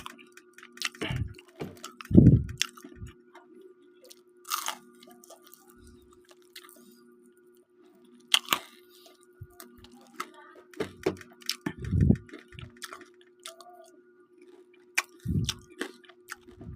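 Intermittent close-up chewing of crunchy fried pork chicharon bulaklak, with crisp crunches in short bursts, separated by pauses and quiet ticks.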